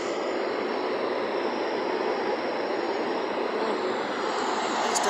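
Loud, steady engine roar of airplanes at Tallinn airport, heard from an outdoor lounge terrace, a continuous broad rumble with no talk.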